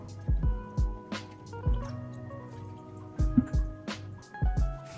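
Water poured from bowls into rava and curd for an instant rava uttapam batter, giving a series of close glugging, dripping splashes in short bursts with gaps between pours.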